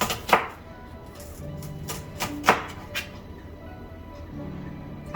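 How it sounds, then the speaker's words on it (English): Knife chopping red onion on a cutting board while making shrimp and veggie ramen: a few sharp, separate cuts spaced apart, close and clear with no talking. "Let's do some red onion. And just kind of cut those the same."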